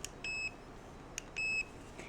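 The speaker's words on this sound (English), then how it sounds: "Here's what a tone sounds like" Two short electronic beeps from a dog e-collar set to tone mode, each a clean steady high tone lasting about a quarter second, with a faint click between them and no talking.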